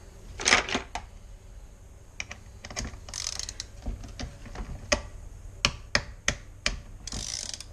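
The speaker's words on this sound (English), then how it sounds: "it's just slipping on the bolt head" A 12-point socket slipping on a 10mm bolt head near an engine's fan clutch, giving a series of sharp, close metallic clicks and ratcheting snaps in uneven bursts. No one speaks.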